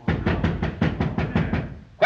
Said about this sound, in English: Quit banging on that door.